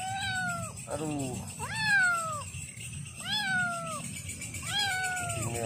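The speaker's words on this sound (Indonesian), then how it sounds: "Ada kucing lagi." A cat in a forest meows repeatedly, four or five drawn-out, loud cries close by, with a short exclamation from a person and background noise.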